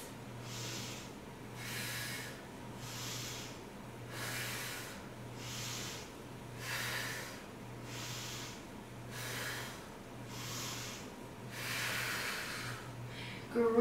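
Slow, deep rhythmic breaths during a yoga runner's pose, with about ten inhale–exhale cycles of soft airy hissing heard close against a steady low hum, and no talking.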